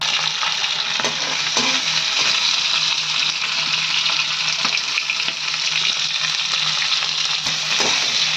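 Capsicum and onion fry in hot oil in a home kitchen pan, a steady close sizzle with light stirring scrapes running throughout, no voices.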